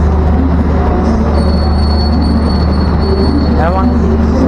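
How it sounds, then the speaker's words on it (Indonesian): A local train arriving at a station in Surabaya, Indonesia, after rain rumbles steadily nearby with a constant low drone, a faint high whine and a brief wheel squeal near the end, while people talk over it. "Ini ada kereta api lokal baru masuk."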